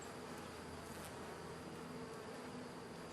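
Honeybees buzzing thickly around a hive that has grown and is starting to swarm, a dense, steady drone with no pauses, close and loud throughout.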